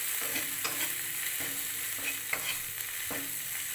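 Kashmiri chilli powder, turmeric and slit green chillies being stirred in hot oil for vegetarian matar ghugni, a steady broadband sizzle with a few sharp spoon scrapes against the pan, close and alone.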